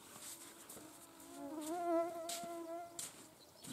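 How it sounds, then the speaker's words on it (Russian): Mosquitoes buzzing close by during a July fishing outing with a bottom line, a wavering whine that swells and fades as they drift past, with no talk over it. "Не обращай внимания на этих комаров."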